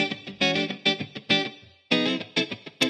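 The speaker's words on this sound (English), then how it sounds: "clearly, we're getting reverb on one side, but we're not getting anything on the other side" Distorted instrument notes in Cubase pass through a reverb effect panned to one side, each short phrase trailing off into a reverberant tail before the next begins.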